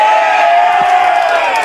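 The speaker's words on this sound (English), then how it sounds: "Brent Surrey hearing the cheers of the crowd." A large crowd cheers and roars steadily at a Tallangatta & District Football League preliminary final, a dense, continuous wash of voices close and loud throughout.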